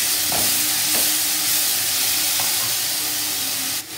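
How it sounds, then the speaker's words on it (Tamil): Chopped onions sautéing in sesame oil, a loud, even sizzle up close with a couple of soft stirring scrapes, the frying dropping off briefly at the very end, no speech. "இப்போ வந்து கட் பண்ணி வச்சுருக்கிற வெங்காயத்தை போட்டு நல்லா வதக்கிக்கலாம்."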